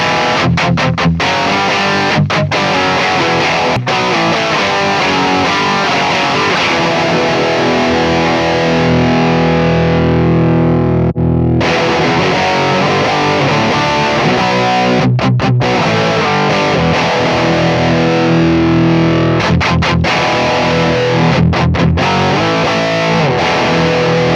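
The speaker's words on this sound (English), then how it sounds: "that to me sounds like a perfect, like super distorted amp" Heavily distorted electric guitar through a Neural DSP amp simulator: dense, saturated chugging riffs with sharp stops and restarts, loud and close throughout.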